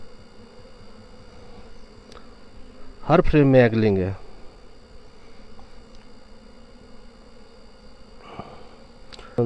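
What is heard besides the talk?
honey bees buzzing at an opened beehive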